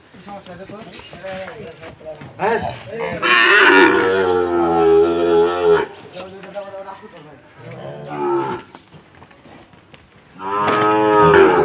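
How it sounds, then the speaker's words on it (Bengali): Sahiwal bull calves and cattle moo loudly and repeatedly at a cattle market in Dinajpur, with long drawn-out calls rising over people talking nearby. "বিশাল বড় গরু ভাই।"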